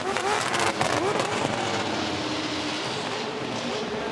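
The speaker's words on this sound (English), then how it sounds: "revving the car for the audience here" A drift car at a championship qualifying event revs its engine for the crowd, a loud burst of climbing engine roar that settles into a steadier blaring drone, with commentators talking over it.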